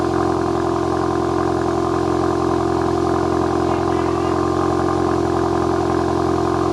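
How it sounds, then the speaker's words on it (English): A Mk8 Volkswagen Golf GTI Clubsport with a newly installed exhaust idles roughly after a cold start, with a deep exhaust rumble and steady mechanical clatter, loud and close, with no talking. "That concludes our cold start."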